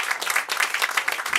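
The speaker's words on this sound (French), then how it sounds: "on l'applaudit, mesdames et messieurs" An audience applauds at an evening event, steady dense clapping filling the short moment with no voices over it.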